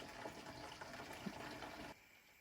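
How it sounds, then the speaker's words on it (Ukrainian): Marinade pours into glass jars packed with cucumbers for home pickling, a soft, steady liquid trickle that stops abruptly near the end. "А тепер у слоєчки до огірків додаємо заливку маринад."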